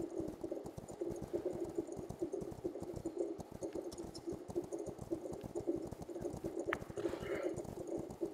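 Steady clip-clop of horse hooves in a video game, a continuous rapid trotting rhythm close up with no talking.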